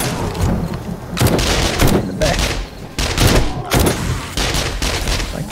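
Heavy, continuous gunfire in the 7 Days to Die video game during a horde night, loud repeated bursts and booming shots in a steady pulsing rhythm throughout.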